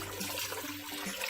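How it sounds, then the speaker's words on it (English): Water pours steadily into a cooking pot for a vegan gluten steak, a constant close splashing rush with no break and no talk. "And then I'm going to add 8 cups of water."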